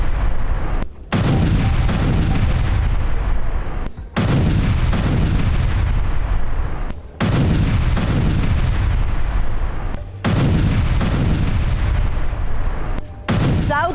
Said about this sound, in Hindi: साउथ लेबनान पर आईडीएफ की विध्वंसक शेलिंग देखिए।